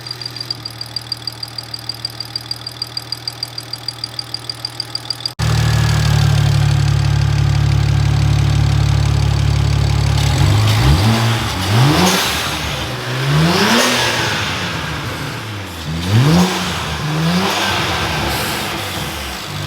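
A BMW 335i fitted with upgraded budget turbos idles with a steady pulsing burble, then the engine note jumps up and it is revved repeatedly in sharp, rising bursts, loud and close.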